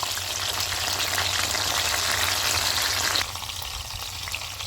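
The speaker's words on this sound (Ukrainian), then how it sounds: "Спочатку ставлю на шкірочку, щоб вони так гарно обсмажилися і не розлазилися." Steady, dense sizzling of eggplant frying skin side down in a hot pan, close and continuous, easing slightly toward the end.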